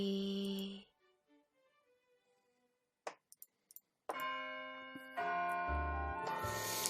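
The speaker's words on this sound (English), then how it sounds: "With the sound of the bell signaling the end of the morning classes, everybody starts to leave the classroom." A school bell chime marks the end of morning classes in a visual novel, a few soft ringing tones that fade out before other brief sounds and a fuller passage follow, fairly quiet overall.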